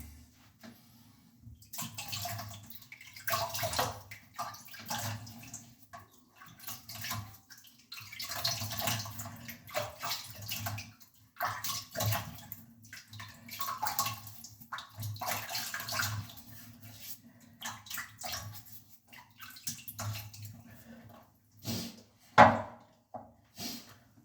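A person washes their face with water during a shaving routine, producing soft, irregular splashing and cupped-hand sloshing that comes and goes close by, fairly quiet, with one sharper knock near the end.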